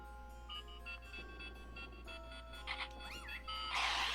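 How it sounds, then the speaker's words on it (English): Hard beep signalling a ghost in the Wii Play Motion video game, a series of short electronic tones and chirps followed by a brief warbling sweep and a burst of bright noise at the end. "whenever we get a hard beep"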